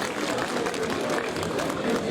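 Sustained crowd applause from a live concert audience in Karpoš, greeting a singer, a dense even wash of clapping and cheering heard steadily throughout.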